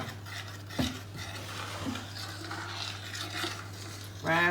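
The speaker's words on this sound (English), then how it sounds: "Just scrape it from the sides and stir it in." A spoon stirring gingerbread dough in a bowl, with soft scraping and occasional clinks against the sides over a steady low hum, ending in a louder burst of scraping.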